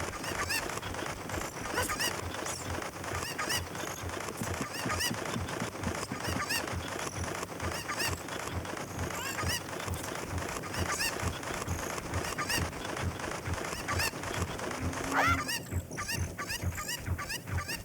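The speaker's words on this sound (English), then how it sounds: "We're up to 6 cuckoos." Cucco chickens in The Legend of Zelda: Ocarina of Time cluck and squawk in a dense, continuous chorus of many birds, quiet overall, with a brief rising tone near the end.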